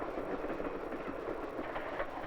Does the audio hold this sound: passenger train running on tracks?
yes